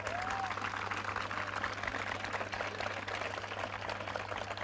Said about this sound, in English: A big round of applause for those folks that you're working with throughout the year to get you here.